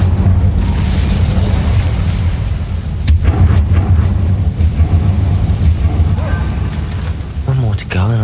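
A fire spell cast in the Hogwarts Legacy video game, a loud booming blast over a constant low game rumble, with a sharp burst near the middle and a voice speaking throughout.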